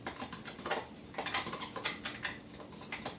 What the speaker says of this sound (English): I'm just going to take a regular butter knife here and I'm going to stir that around.